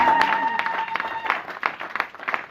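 Church congregation applauding to acclaim the Lord, a sustained burst of many hands clapping that thins into scattered, uneven claps.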